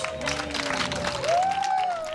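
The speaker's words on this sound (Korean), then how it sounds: "여러분 큰 박수로 맞이해 주십시오" Steady applause from a concert audience welcoming a singer to the stage, a dense wash of clapping with a sustained musical tone running underneath.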